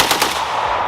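A short burst of automatic gunfire at a shooting range, several rapid loud close shots fused into one sharp rattling blast under a second long.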